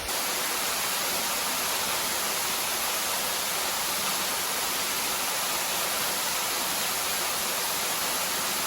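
A waterfall in a Puerto Rico rainforest, heard from its base as a loud, steady, unbroken rush of falling water filling the whole clip.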